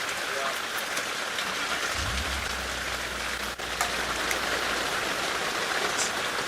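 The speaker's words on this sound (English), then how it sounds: "So sorry, Chris, the rain is so hard I can't hear you" Heavy rain pours steadily at dusk during an African wildlife drive, a dense continuous hiss of drops drumming on surfaces, with a low vehicle rumble joining partway through.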